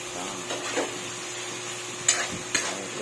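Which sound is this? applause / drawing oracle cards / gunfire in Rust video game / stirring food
stirring food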